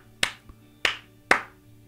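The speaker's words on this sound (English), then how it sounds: "clap" Three sharp, separate hand claps ring out in a quiet room, with a faint tap between the first two, each one short and close.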